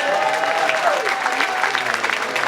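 An audience on a Flower Power Cruise applauds and cheers for The Cowsills and The Family Stone, sustained dense clapping with a few whoops over a steady crowd roar.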